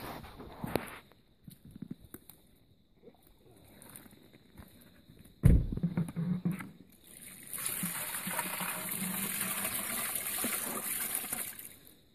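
Water is poured into a bucket to rinse mud and mined material outdoors, a steady splashing, trickling stream that runs loud and close for several seconds after earlier scattered knocks and sloshes.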